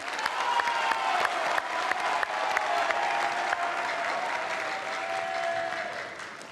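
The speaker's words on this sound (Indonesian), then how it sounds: "Boleh tepuk tangan yang meriah?" A large audience at a televised presidential candidates' debate claps loudly and steadily, a sustained wash of applause with a faint tonal hum running underneath.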